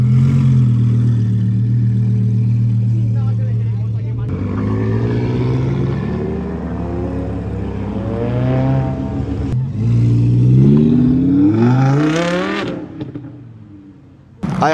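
A loud, deep Dodge Demon muscle car engine idles then revs hard repeatedly during a burnout at a car show in Raleigh, North Carolina, pitch climbing in long roaring surges close by, ending in an abrupt burst.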